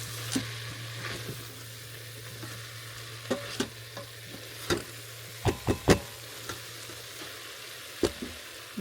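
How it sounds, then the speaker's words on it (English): Meat, onions and seasonings sizzle steadily while sauteing in an Instant Pot, with a low constant hum and scattered sharp scrapes and knocks from a spoon stirring against the pot. "you're basically sauteing your seasonings along with your meat and onions."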